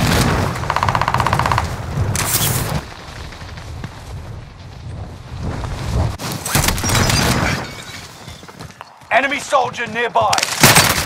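Rapid automatic gunfire and scattered shots in Call of Duty: Modern Warfare, loud bursts coming in clusters with a voice speaking over parts of the battle.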